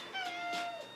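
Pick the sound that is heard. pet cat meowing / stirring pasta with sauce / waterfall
pet cat meowing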